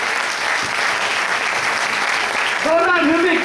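Stage event crowd applauding as a guest is called up, dense continuous clapping with voices underneath and a rising musical tone near the end.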